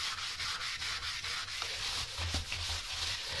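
A Faberlic cleaning mitt scrubs a bathtub surface in steady, rapid back-and-forth rubbing strokes, close and fairly quiet, with no voices.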